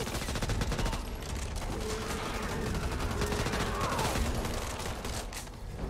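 Rapid continuous gunfire in the zombie shooter Back 4 Blood, loud close bursts of automatic weapons filling the whole stretch, with faint player voices underneath.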